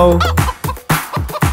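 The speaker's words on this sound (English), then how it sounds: "There was a farmer had a chicken, Chicky was her name, O" A chicken from a children's nursery rhyme clucks loudly and close, giving a quick series of choppy, rhythmic squawks with no voices alongside.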